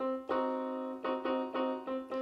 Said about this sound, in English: And a 1 diminished sounds like this.